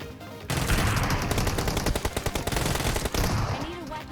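Rapid automatic gunfire from the first-person shooter BOOTCAMP.exe rattles out in a dense, loud burst of shots lasting about three seconds, with the firing ending abruptly and a fainter tail afterward.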